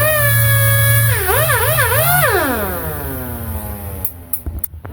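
A Baxter sander from Harbor Freight whines at high speed, its pitch wobbling up and down, then winding down steadily before a few sharp clicks, heard alone.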